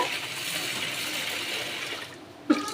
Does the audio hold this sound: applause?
no